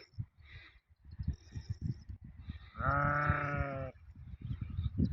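A lamb bleats once, loud and close, a wavering cry lasting about a second amid soft shuffling and grunting noises.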